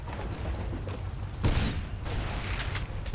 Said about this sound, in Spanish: he modificado su disparo secundario con granadas de concusión de largo alcance